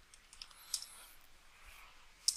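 A few sparse, faint keystroke clicks from a computer keyboard, typed while entering a terminal command during a GNOME 3.10 install in VirtualBox, spaced irregularly against near silence.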